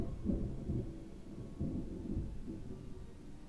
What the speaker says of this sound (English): just some loud ass thunder